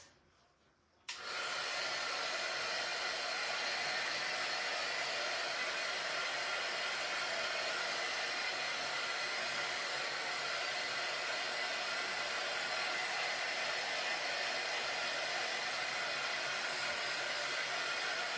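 A blow dryer switches on after a second of quiet and runs at a steady, loud, unbroken roar drying a part, with no talk over it.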